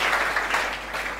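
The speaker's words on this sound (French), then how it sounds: "Acclamons le Seigneur pour le peuple arabe." A church congregation applauds in praise of the Lord, a dense, loud burst of many hands clapping at once, continuous through the short moment.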